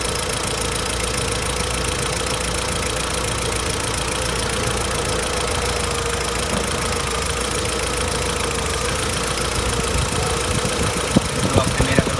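Car idling with its air conditioning switched on while the electric radiator fan runs at first speed, a steady engine hum and fan whoosh holding close and even throughout, with a few light clicks near the end.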